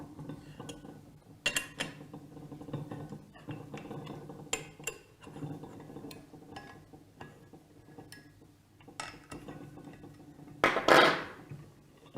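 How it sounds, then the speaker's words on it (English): Socket head screws being undone with a hex key on a Flotronic air valve during a strip-down, with scattered metallic clicks, tool taps and the clink of small parts set down on a bench, close and intermittent. "And undo 4 socket heads, holding the air valve on."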